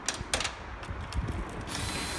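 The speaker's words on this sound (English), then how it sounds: "I'm going to use a 3/8 drill to loosen the bolts" A 3/8-inch cordless drill loosens valve cover bolts on a Toyota engine, giving short ratcheting and whirring bursts followed by a steadier mechanical spin, close and fairly loud with no talking.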